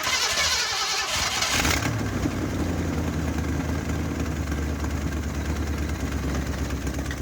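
An abandoned 1970 Ford Mustang V8 starts up with a brief cranking burst, then settles into a loud, rough, low rumble that holds steady at close range.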